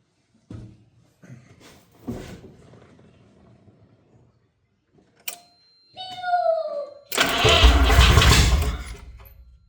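A 1985 Mazda RX-7 GSL-SE rotary engine, unstarted for 24 years, cranks in a few short separate bursts, then catches and roars loudly and close for the last couple of seconds.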